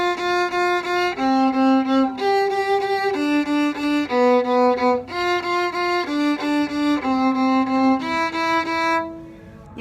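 A viola bows the opening of a tune, each note repeated three times in quick even groups, a clear close solo line that fades out at the end without any voice.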